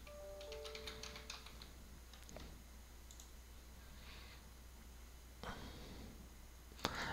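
Fast, irregular clicks of typing on a computer keyboard while a folder name is entered, close and fairly quiet, with a steady low hum beneath and a sharper click near the end.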